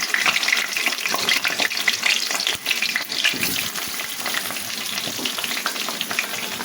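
Round potato slices fry in hot oil in a wok, a loud, continuous crackling sizzle with scattered pops and brief stirring scrapes close up.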